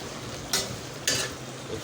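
Green chillies stirred into chicken frying on a tawa, a constant sizzle with two brief scraping stirs standing out, close and alone.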